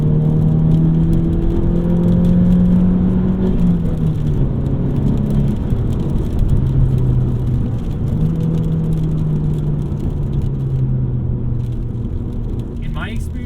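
A modified 2018 VW Golf GTI with a small turbocharged four-cylinder engine hums as a steady, loud drone with shifting low tones while driving, and someone talks over it throughout.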